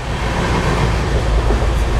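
A passenger train runs steadily along the rails, giving a continuous loud rumble and rattle heard from inside the carriage, with no pauses.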